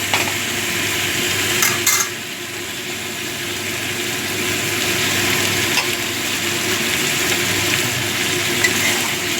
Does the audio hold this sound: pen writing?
no